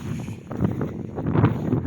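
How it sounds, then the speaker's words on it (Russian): Cold wind gusting over the Lena river on a boat journey, buffeting the microphone in rough bursts that grow stronger toward the end, with a low rumble beneath. "Ветер второй день холодный"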